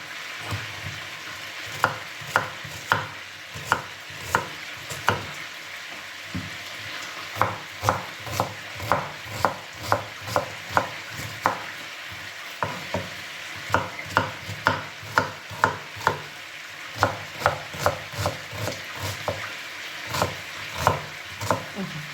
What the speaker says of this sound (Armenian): սոխն էլ կտարտեցի